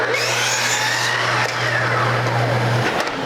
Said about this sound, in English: First, we have to cut the mating miter to come out of that